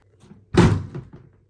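A front door being pulled open to answer the doorbell gives a single solid thunk at close range, with a short rattle trailing after it.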